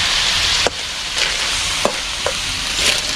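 Malunggay leaves, pepper and lemongrass are stirred in a sizzling pan, the steady frying hiss carrying a few sharp scrapes and clacks of the spoon at irregular intervals.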